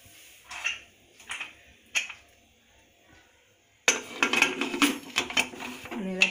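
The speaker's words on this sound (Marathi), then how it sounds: "त्याला मी झाकण लावते." A lid goes onto a pressure cooker in a home kitchen while moong masala rice is being made. A few soft clanks come first, then a louder run of metallic clatter and scraping near the end.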